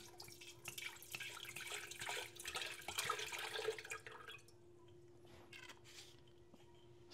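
Water pours steadily into a hotel room electric kettle for about four seconds, a close, splashy trickle that then stops, leaving a quiet room with a faint steady hum.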